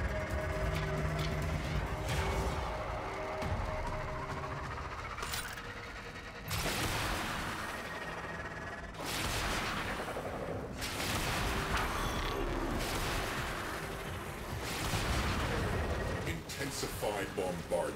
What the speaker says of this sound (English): Intensified bombardment.